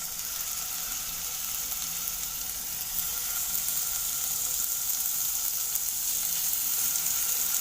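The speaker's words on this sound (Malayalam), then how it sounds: "ഞങ്ങൾ കുറച്ച് എണ്ണ ഒഴിച്ചിട്ട് അടച്ച് വെച്ച് 2 പുറത്ത് കുറഞ്ഞ തീയിൽ അങ്ങനെ വേവിച്ചിട്ട് കഴിക്കുക" Food shallow-fries in a little oil over low heat, cooked on both sides under a lid, with a soft, even sizzle that holds steady throughout and no talking.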